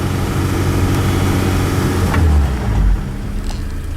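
A Suzuki Samurai fitted with 4.9-to-1 gears and a Rock Block dual transfer case drives in high range. Its engine gives a loud, steady drone from close by, and the pitch rises briefly partway through.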